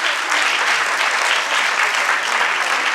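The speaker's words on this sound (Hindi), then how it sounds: "एक बार जोरदार तालियां होनी चाहिए।" A loud, sustained ovation from the audience after a Shakuntalam ballet performance, with thick, even clapping holding steady throughout and no talk.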